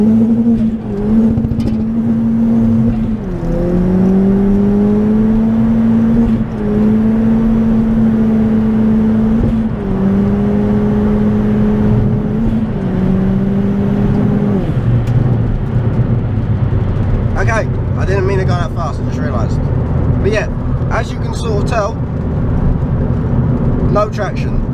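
A 320 bhp Ford Fiesta ST accelerating hard, heard from inside: a loud engine drone rising in pitch through several gear changes, then sustained high revs with clicks and rattles.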